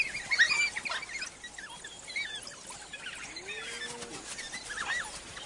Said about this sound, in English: They also use unique vocalizations to coordinate their hunt.